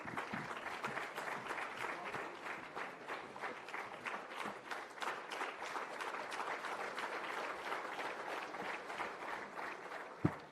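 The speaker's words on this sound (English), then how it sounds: "A round of applause, please," Continuous audience applause rings through a public finance conference hall at a convention venue in Visakhapatnam, many people clapping at an even, moderate level for about ten seconds with no speech over it.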